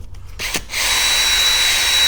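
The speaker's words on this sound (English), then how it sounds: "Same process as before with the drill." A power drill spins up to polish a plastic car headlight lens coated with Meguiar's rubbing compound, a steady close whine that starts after a brief pause and holds loud and even.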